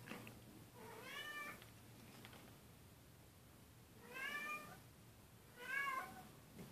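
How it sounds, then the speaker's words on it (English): A domestic cat meows three times, close and clear, with a steady kitchen hum underneath while a Thanksgiving turkey is being prepared; no one speaks. "That's one of our cats."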